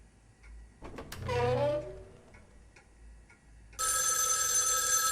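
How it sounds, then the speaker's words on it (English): A telephone rings loudly in the horror game Spirit Hunter: NG, a sustained bright electronic ring that starts abruptly near the end, after a clock's soft ticking and a short voiced sound. "Another phone call."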